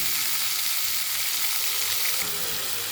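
Okra sautés in a pan with a steady, even sizzling hiss, close by and continuous, with faint occasional stirring underneath.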